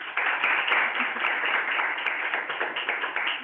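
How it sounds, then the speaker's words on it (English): Applause for a panel at the SpeakHire 2023 summit, a dense steady wash of many hands clapping throughout, fairly loud and continuous with a few sharper individual claps standing out. "can we give our summit panelists a big round of applause?"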